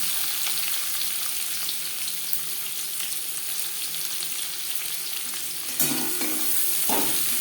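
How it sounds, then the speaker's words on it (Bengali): Chopped onions frying in oil in a wok that was just used for frying fish, a steady close sizzle with a couple of louder stirring scrapes near the end. "মাছ ভেজে নেওয়ার কড়াইতে আবারও তেল দিয়েছি এবার দিয়ে দেব পেঁয়াজ কুচি"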